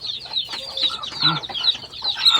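Several chickens cluck and chatter close by, a busy jumble of short clucks with a brief higher squawk among them.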